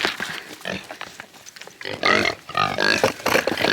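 A mother pig grunts and squeals loudly at close range during milking time, in a series of rough bursts growing louder toward the end, with no talking.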